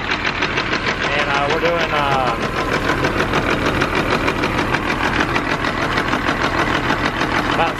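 A diesel engine with a fuel pressure gauge attached idles at about 750 rpm, a close, steady knocking rumble with even pulses, while someone talks briefly over it.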